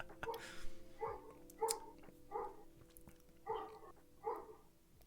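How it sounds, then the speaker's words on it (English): Several neighborhood dogs bark outside, heard through an open window: about six separate barks spaced roughly a second apart, moderately distant, over a steady low background hum. "This is just neighborhood dogs. A lot of dogs in the neighborhood where I live."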